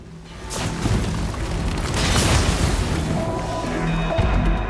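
A missile explosion in the futuristic racing game Wipeout VR: a dense, roaring boom with rumbling low end that swells and sustains for several seconds over a constant engine-like wash.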